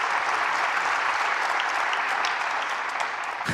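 A snooker crowd at the World Grand Prix final applauds a century break, a dense, sustained wash of clapping from a large audience that holds steady throughout and fades slightly at the end.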